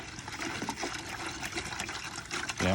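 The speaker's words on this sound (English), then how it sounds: "gonna load all the water in there" Water pours into a clean green bucket while coolant is mixed for a 2006 Jaguar XJ8: a soft, steady splashing trickle, close but quiet, with no talking.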